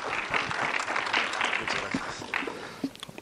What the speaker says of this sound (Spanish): Les pido un fuerte aplauso para recibirlo